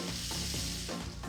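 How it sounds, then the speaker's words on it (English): Finely diced bacon and chorizo sizzle in a pan while being stirred for farofa, a steady close crackling hiss with soft scraping movements. "a crunchy topping for the feijoada, frying up finely diced bacon,"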